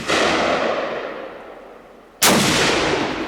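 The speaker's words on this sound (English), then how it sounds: "I'm shooting that Swiss ammo" Two sharp, loud rifle gunshots from Swiss .308 ammunition crack out at a range, each followed by a long booming decay, the second shot coming about two seconds after the first.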